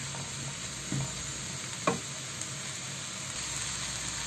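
Dry spices are stirred and toasted in an empty kadai, giving a soft continuous sizzle under faint scraping, with a couple of brief clinks from the utensil against the pan.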